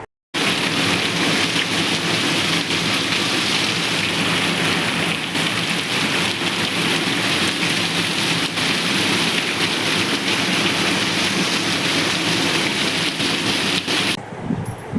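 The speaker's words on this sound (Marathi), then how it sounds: "इतका भरमसाठ खूप पाऊस पडतो आहे आमच्याकडे" Heavy rain pours down steadily, a dense, loud, continuous hiss of water striking surfaces, with no voices.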